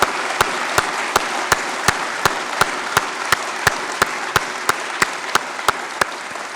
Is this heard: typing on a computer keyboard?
no